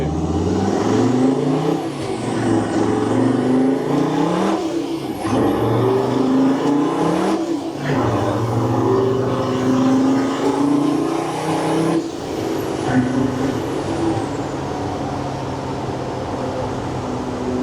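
A 400 HP converted van accelerates hard, its engine roaring loud and close as it climbs through the revs, with several brief dips at gear changes before it pulls up again.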